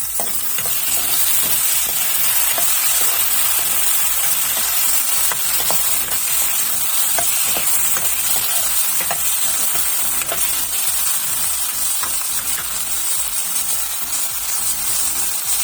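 Elephant foot yam pieces frying in a pan for Andhra-style kanda pulusu, a loud continuous sizzle with repeated scraping clicks of stirring throughout, close up with no speech.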